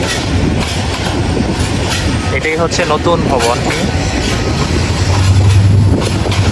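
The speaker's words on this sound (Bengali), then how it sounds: "আমাদের ট্রেন আবারও চলছে একদম শা করে স্পিড বাড়িয়ে চলার চেষ্টা করছে" A moving train recorded from its roof near Dhaka airport's Terminal Three: a loud, steady rumble with rattling carriages and wind noise throughout, while someone talks over it.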